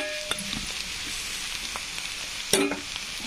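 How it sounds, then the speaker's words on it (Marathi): Cooked soft potatoes are sautéed in a pan with little oil and turned over with a spoon, a low steady sizzle broken by scrapes and a louder clatter near the end. "छानपैकी आपले बटाटे टाकून झालेले आहेत. परतून घेऊ त्या खालती वरती करून."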